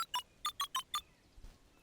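Keypad tones from a phone booth in the video game Beacon Pines, six short electronic beeps in an uneven quick sequence, clear and close, followed by a faint soft thump and quiet.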